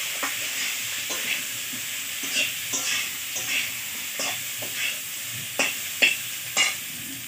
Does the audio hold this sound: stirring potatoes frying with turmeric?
yes